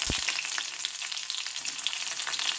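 Chopped shallots and dried red chillies fry in ghee with mustard seeds, giving a loud, steady hiss and crackle of sizzling oil, close and unbroken.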